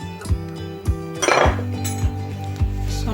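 Yeast stirred into warm milk with a metal spoon, rhythmic clinks against a bowl roughly every half second, close and clear, with a brief scraping swirl in the middle.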